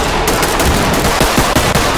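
A sustained, loud volley of rapid automatic gunfire in the video game Club Raid, with dense overlapping shots rattling without pause.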